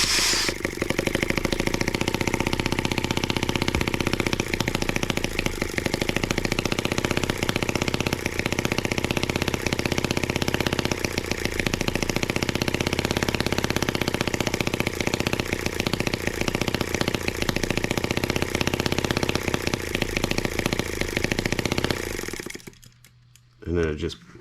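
An M14 twin-cylinder tractor engine with fussy carburetors runs loud and close, a steady chugging roar with slight uneven stumbles, before dying away at the end.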